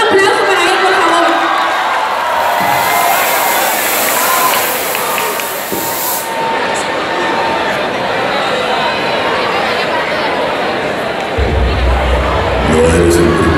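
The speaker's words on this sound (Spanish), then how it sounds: "así que un aplauso para él, por favor." Audience at an anime fair in Santo Domingo cheers and claps in a loud, continuous roar of crowd noise that keeps going across the stage space.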